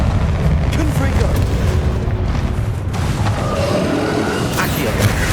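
A Confringo spell explosion in the Hogwarts Legacy video game, heard as a dense, rumbling blast over continuous game noise while a man calls out the spell name.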